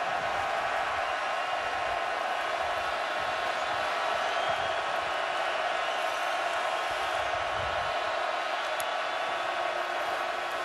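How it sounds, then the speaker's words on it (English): Football stadium crowd roaring loudly on a third-and-12 play during a game against the Gators, a dense and continuous wash of cheering noise with no pauses. "Crowd loud on 3rd and 12."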